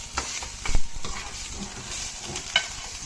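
Food being quickly sautéed in hot oil in a pan for Thai cooking, a steady close sizzle with scraping stir strokes and a few sharper clinks, no talking.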